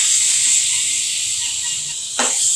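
Tomatoes go into a hot, oiled pan while a Kerala-style okra tamarind curry cooks with spices, giving a loud, continuous sizzling hiss that flares up sharply near the end.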